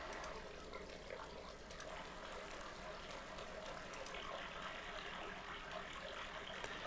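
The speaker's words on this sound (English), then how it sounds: "We have a bunch of different water effects." Continuous rushing, bubbling water noise, like a steady stream or fountain, with faint clicks scattered throughout; an ambient water effect in the Unreal Tournament 2004 level editor.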